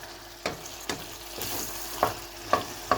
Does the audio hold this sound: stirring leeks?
yes